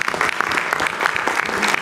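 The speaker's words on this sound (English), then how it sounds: "So a round of applause for James." Attendees at a federal advisory board meeting applaud a departing colleague, a short burst of brisk, even clapping from a modest group.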